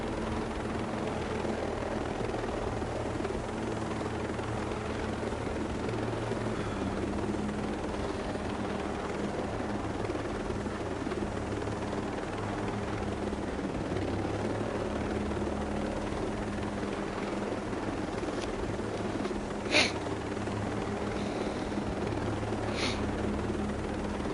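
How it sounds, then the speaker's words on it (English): A military helicopter runs continuously at a training course, a steady low rotor drone lasting over twenty seconds, with a couple of brief sharp sounds near the end. "You will need this helicopter pretty much for the duration of it"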